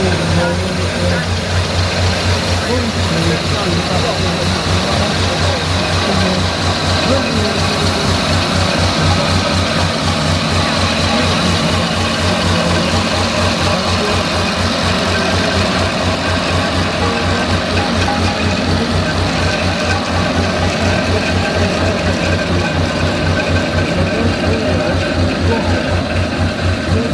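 Daffodil, a steam roller, running at a show at Netley Marsh, with a steady loud low engine chug that holds evenly throughout under constant outdoor crowd and background noise.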